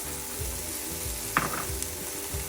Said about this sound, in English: Onto the onion, I'm gonna add the frozen peas and carrots.